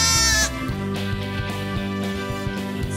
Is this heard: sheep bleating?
yes